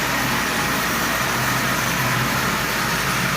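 A prewar Marx 999 toy train engine from about 1938 runs pulling tin litho cars, giving a steady, loud, continuous mechanical whir and rumble with no breaks or talking.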